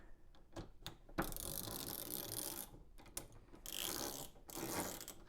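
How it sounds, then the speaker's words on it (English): Faint, close clicking of a pass-through ratchet that has been deformed by heavy load, rapid pawl ticks in a few short bursts separated by brief pauses, with no voices. "And it does still ratchet"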